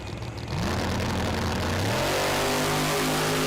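A turbocharged 1978 Volvo drag car launches hard from the line at a street car meet, its engine note climbing steeply as it revs up and pulls away, loud and close throughout with no talk.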